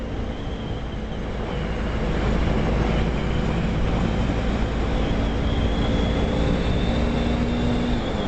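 A motorcycle running at cruising speed in sixth gear produces a steady, loud engine drone mixed with wind rush, continuous with no breaks and growing slightly stronger after the first couple of seconds.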